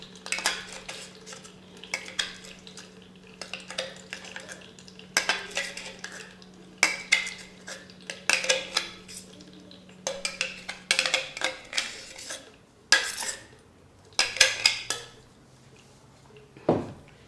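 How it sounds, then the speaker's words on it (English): A metal spoon scrapes out a saucepan of soap-making mixture, giving repeated sharp clinking scrapes in uneven bursts against a steady low hum, loudest toward the end. "I've got to get the spoon and then I scrape it all out like that"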